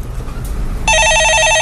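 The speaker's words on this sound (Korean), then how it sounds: "전화 받아보겠습니다." A telephone starts ringing partway through with a bright, trilling electronic ring, loud and close, following a stretch of low studio background sound.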